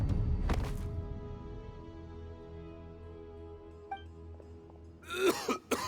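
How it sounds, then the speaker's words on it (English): A man coughs and clears his throat in a few rough bursts near the end, after a stretch of quiet background music, in Genshin Impact. "Why is he coughing so much?"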